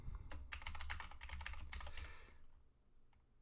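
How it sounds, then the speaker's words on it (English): Rapid keystrokes on a computer keyboard as a password is entered, a dense burst of close clicking for about two seconds, then a couple of isolated taps in near silence. "I'm going to put in our password."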